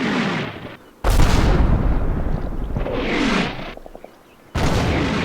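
Heavy gunfire and explosive booms from the video game Combat Mission Black Sea pound an open field, arriving in loud sustained bursts broken by a brief lull before another blast.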